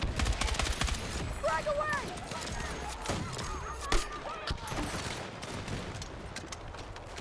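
Gunfire crackles through a Battlefield 6 firefight as a smoke grenade launcher fires, with dense overlapping shots and bursts throughout, a sharper pop near the middle, and voices talking over the din.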